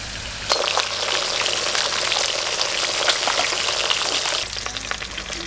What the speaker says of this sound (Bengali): মাছগুলো একটু লাল করে একটু কড়া করে ভাজবো